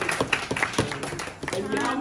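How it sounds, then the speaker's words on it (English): A round of applause breaks out at a surprise birthday party, scattered claps tapping out across the crowd amid cheering and chatter, steady and fairly loud throughout. "Is a round of applause for her."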